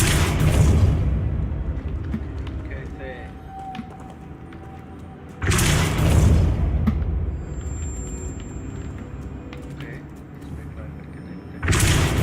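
Depulso force spell cast in the Hogwarts Legacy video game, three loud broadband whooshing blasts at the start, middle and end over a steady low game rumble.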